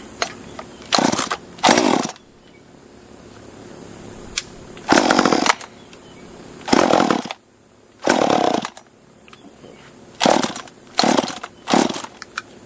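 A cheap top-handle chainsaw under repair, apparently running short of fuel, fires in repeated short, loud sputtering bursts of engine buzz separated by quieter gaps.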